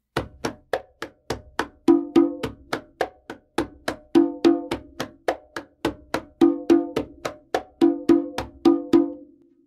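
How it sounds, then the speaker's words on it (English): Tumbao conga rhythm played on a single drum: a steady, repeating pattern of crisp slaps and ringing open tones, close and loud, with no voices. "Now we combine those to make what's called a timbao"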